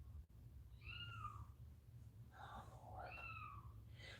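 Several kittens give high, thin meows indoors, four or so short cries spaced over a few seconds, faint against a low background hum.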